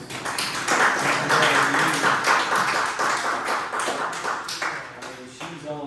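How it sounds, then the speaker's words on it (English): Round of applause from attendees at a monthly village council meeting in Palisades, Texas: steady clapping from a modest room crowd lasting several seconds, thinning toward the end as voices return. "I think we need to really give a round of applause to Carolyn"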